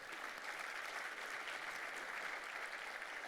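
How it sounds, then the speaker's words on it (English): Sustained audience applause at a downtown civic presentation, a dense steady wash of many hands clapping at even loudness throughout, with no talk over it. "Give her another round of applause."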